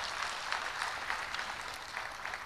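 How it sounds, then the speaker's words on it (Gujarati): Applause rises from the audience at a Gujarati poetry evening as poet Milind Gadhvi is welcomed to the stage, a soft, fairly distant wash of clapping that stays even for a couple of seconds. "આપ સૌની જોરદાર તાળીઓ મિલિંદ ગઢવી માટે."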